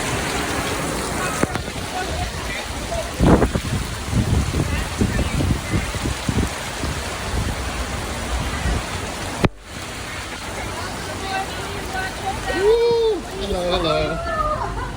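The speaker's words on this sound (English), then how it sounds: "that rain was just coming down" Heavy rain pours down outdoors at a Disney World resort, a loud steady hiss and splatter throughout, with brief muffled voices and a short interruption near the end.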